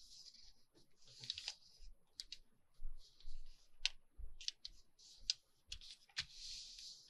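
Paper greeting card being folded into a handmade journal booklet, giving a series of sharp crisp creases and clicks scattered irregularly over several seconds, close and fairly quiet with no talking.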